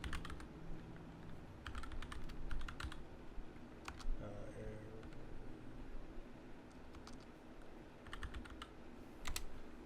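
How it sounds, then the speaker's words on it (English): Someone types on a computer keyboard in irregular bursts of quick clicking keystrokes with pauses between, fairly close over a faint steady background hum. "Just type in your question up here"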